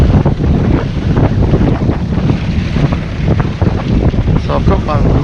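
A sailboat motorsailing on a gulf in South Australia, engine running under sail, heard as a loud, continuous rumble of wind buffeting and water rushing against the hull, without talk.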